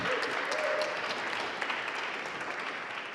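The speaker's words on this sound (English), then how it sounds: "So please give our panelists a round of applause." Steady, fairly distant applause from a conference audience for a panel discussion, an even wash of many clapping hands that holds for the whole stretch with a faint tone in the background early on.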